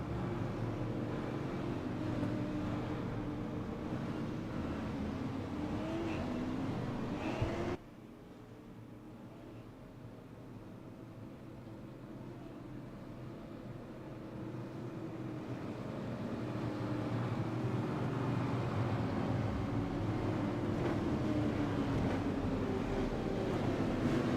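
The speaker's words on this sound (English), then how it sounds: "there you see the pace car taking these guys around for a couple laps of warm up" A pace car leads Tundra Super Late Model race cars around Irwindale Speedway on warm-up laps, a steady, wind-buffeted engine rumble with faint rising and falling engine tones that swell again toward the end.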